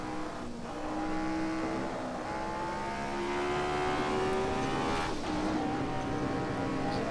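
A race car lapping a track in the Assetto Corsa racing game, its engine droning steadily with rising and falling tones through gear changes, fairly quiet and continuous with no talk.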